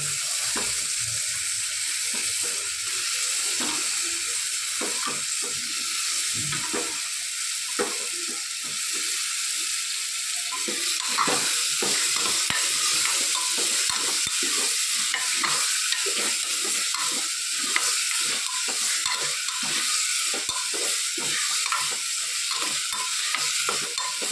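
Vegetables fry and sizzle steadily in a hot pan with spices, while a spoon stirs and scrapes through them in frequent clicks and scrapes, close and continuous, with no talking.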